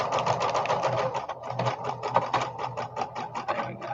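A sewing machine stitches a strip of fabric while crafting, a close, rapid mechanical chatter with steady whirring and clicking that keeps going without pause.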